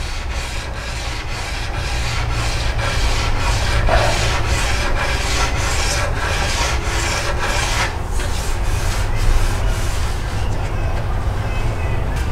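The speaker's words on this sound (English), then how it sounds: "I am just letting the sandpaper glide across the surface and do the work" A C4 Corvette front spoiler is sanded by hand with sandpaper using light pressure. Steady, rhythmic back-and-forth rasping strokes continue up close throughout, with no talking.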